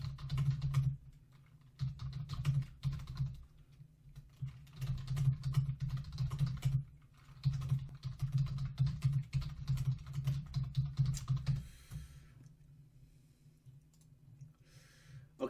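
Fingers type on a computer keyboard in dense bursts of clicky keystrokes with short pauses between them, close and fairly quiet, with no talking.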